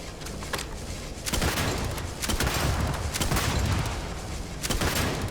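An explosive gun fires repeatedly in the space game Starfield, Shattered Space expansion, as several loud bursts and cracks over a dense background of game noise.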